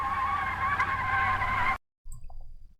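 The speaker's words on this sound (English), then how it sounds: "I actually added in the sound of the tire screeching because it wasn't dramatic enough for me" A tire screech sound effect in video game footage, a loud sustained squeal that cuts off abruptly, then brief quieter rumbling follows.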